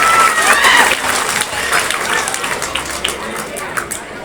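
A crowd at a Tamil debate show applauds loudly and continuously, with dense clapping that gradually thins out over a few seconds.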